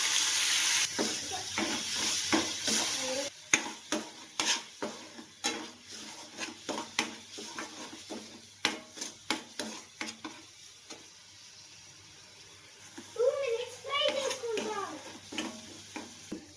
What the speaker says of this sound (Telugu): కొంచెం కరివేపాకు వేసి బాగా వేయించాలి.